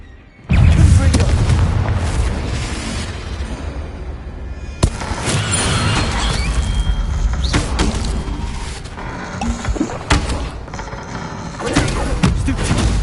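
Repeated fiery Confringo spell blasts from Hogwarts Legacy go off as heavy booming explosions, one after another, loud and close, with sharp impacts scattered across a dense rumbling bed of game combat sound.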